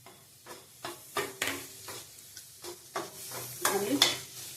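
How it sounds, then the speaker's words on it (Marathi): Pav bhaji masala being stirred and roasted in a pan for street-style paneer ghotala, a run of close, rhythmic scraping strokes with a light sizzle underneath and no talking. "पावभाजी मसाला चांगलं हलवून भाजून घ्यायचं आहे।"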